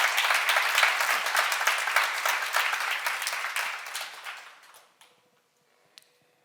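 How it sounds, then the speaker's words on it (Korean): A church seminar audience applauds steadily for several seconds, the clapping dense and even before thinning out and fading to near silence, with one last faint clap. "사람만 박수 한번 쳐보세요"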